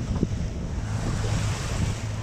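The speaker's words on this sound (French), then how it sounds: "Il y a 5 nœuds de vent de travers." Wind rushes steadily past the microphone on a sailboat at sea in a five-knot crosswind with the genoa out, waves washing against the hull in a constant, loud, full-bodied roar.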